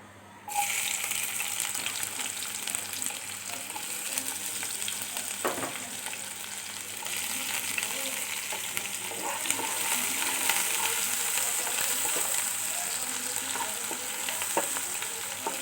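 Chopped onion frying in oil in a pan, a steady close sizzle that starts abruptly and keeps going with occasional stirring scrapes and clatters, no talking.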